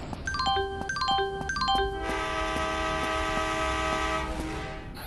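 Railway station scene in a video game: a chiming ding-dong platform jingle plays in short repeated phrases, then a long, loud, steady train horn sounds as a train arrives at the platform.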